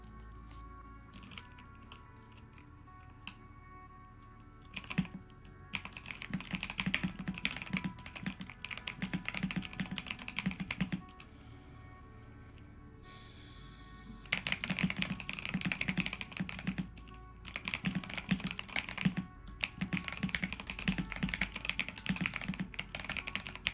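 Soft-spoken ASMR-style typing on a computer keyboard, dense rapid clicking in long bursts separated by brief pauses, close and crisp throughout with no voice heard.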